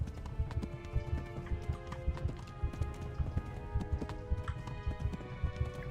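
A horse gallops in Kingdom Come: Deliverance, its hooves pounding in a steady, rapid rhythm of soft thuds that stays fairly faint and continuous throughout.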